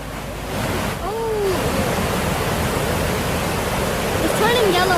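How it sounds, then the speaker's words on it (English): Steady roar of rushing water from the waterfall at Devil's Bridge in Wales fills the whole scene, loud and continuous, with bird-like chirps and faint voices briefly rising over it. "Listen to the sound of the water."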